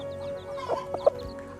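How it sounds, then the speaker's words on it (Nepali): Chickens and small chicks in a Sikkim village cluck softly nearby, a few short clucks and peeps bunched together over a quiet background. "कति क्युट चल्लाहरू छ"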